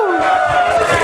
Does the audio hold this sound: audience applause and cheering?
yes